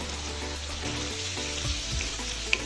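Yogurt going into mutton tilli masala in a hot pan, a steady loud sizzle and crackle of frying that holds throughout, with a brief small clink near the end and no speech.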